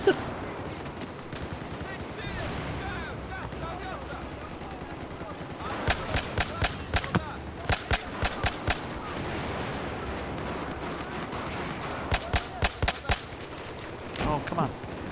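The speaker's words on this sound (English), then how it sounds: "Oh my goodness, the amount of rockets." Battlefield 4 combat with many rockets and gunfire, rapid clusters of sharp close shots and blasts in repeated volleys over a steady rumbling battle bed, with a voice speaking at times.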